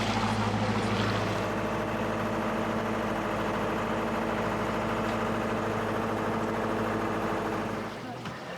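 A sailboat's inboard engine drones steadily while motor sailing offshore, a loud continuous low hum with wind and water noise that drops away near the end.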